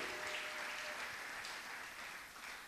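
A church congregation applauds in a brief burst of dense, quiet clapping, with no speech over it.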